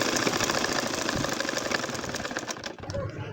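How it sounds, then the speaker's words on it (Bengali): An ordinary sewing machine stitches a nakshi kantha quilt in a date-palm-leaf pattern, making a fast, even mechanical clatter that runs continuously before briefly cutting off near the end. "এর উপর দিয়ে এখন আমি সেলাই করে যাব।"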